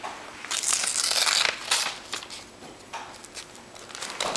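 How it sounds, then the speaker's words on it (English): Greeting card being opened by hand, with close, soft paper crinkling and rustling in a few irregular bursts and no talk. "Can you open the card?"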